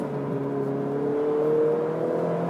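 A car engine pulls hard at full throttle on a track, its whine climbing steadily in pitch through a gear, close and loud with no voices.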